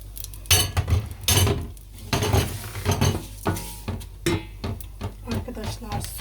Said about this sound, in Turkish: Bir de şu sosu karıştırmak istiyorum.